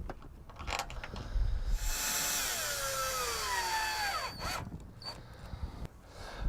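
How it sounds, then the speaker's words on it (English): Power drill driving a screw into the bottom rail of a screen door, a steady loud whirring run of about two and a half seconds with a pitch that sweeps downward as the screw seats, between brief clicks and handling noise. "I've now just put the screw in on the bottom."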